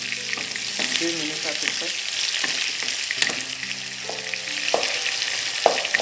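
Onions sauté in a pan with a loud, continuous frying hiss, punctuated by the clink and scrape of stirring, while a voice speaks briefly over the sizzle.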